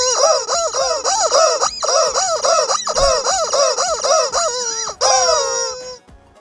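Several chickens in the video game Palia cluck and squawk in a rapid, loud, overlapping run of repeated calls that ends in one last drawn-out call before stopping.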